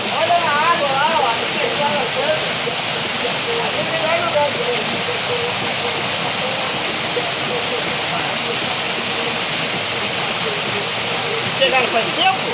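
A waterfall at Cachoeira dos Búfalos near Pindamonhangaba gives a steady, loud roar of rushing water. Faint voices are heard under it.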